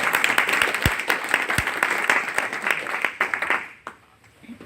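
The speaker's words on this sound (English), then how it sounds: "give him a warm hand of applause because he came all the way to us from Lisbon" Warm applause from a conference audience at a Pecha Kucha event, dense clapping from many hands that holds steady then tapers off toward the end.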